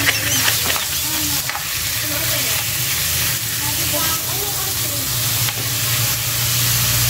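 Ground meat sizzles loudly in a hot pan while it is stirred, a steady crackling hiss broken by occasional scraping, with faint voices in the background.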